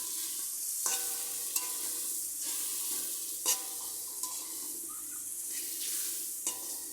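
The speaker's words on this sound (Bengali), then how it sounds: "মশলাটা যত কষাবেন ততই রান্নাটা ভালো হবে" Spice paste and onions fry in a pan for crab curry, a busy sizzle punctuated by a spoon scraping and stirring roughly every second, close and clear.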